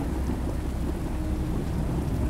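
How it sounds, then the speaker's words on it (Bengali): Heavy rain pouring steadily outside at night, a dense continuous low roar with a thundery rumble and no talk, even and unbroken throughout. "বাহিরে মুষলধারে বৃষ্টি হচ্ছে।"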